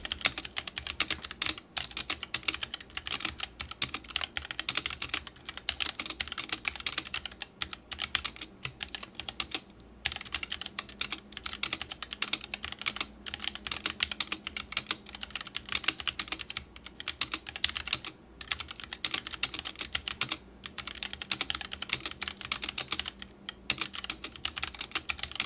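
Fast, continuous close-up typing on a Womier K66 keyboard with Gateron red switches, a dense patter of soft clacking keystrokes with occasional brief pauses and no talking.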